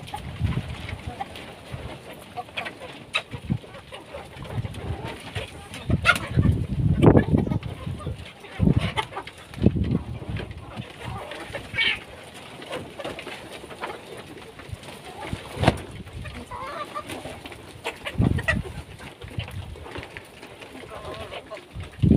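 Fayoumi laying hens in a backyard flock cluck and coo in short irregular bursts, fairly close, over a steady murmur of other birds.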